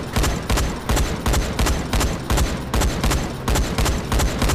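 Loud, rapid bursts of gunfire from the video game Dying Light, sharp repeated shots in clustered volleys with brief gaps, close and dominant throughout.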